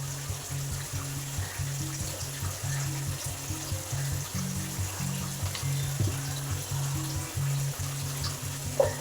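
Onions for chicken dum biryani fry in a pan with a steady, soft sizzle and faint bubbling throughout. A low intermittent hum runs underneath.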